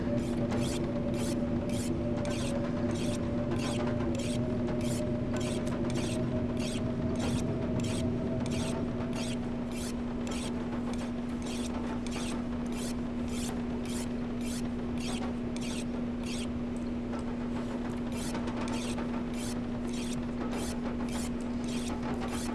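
Sharpening a makeshift hatchet on a whetstone in The Long Dark makes a repetitive rasping, scraping rhythm, quick regular strokes over a steady tonal hum, moderately loud and continuous with no talking.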